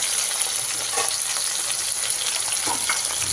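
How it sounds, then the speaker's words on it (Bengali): Potatoes frying in a pan until reddish, giving a continuous dense sizzle with faint stirring scrapes, close and steady throughout, no voices. "দেখো লাল লাল করে আলুগুলো ফ্রাই করে নেবো"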